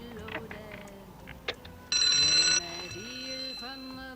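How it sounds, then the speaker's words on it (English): A cable car alarm bell from Thunderbirds rings in a short loud burst of bright metallic tone, set among quieter clicks, tones and a voice talking before and after it. "That sounded like the cable car alarm"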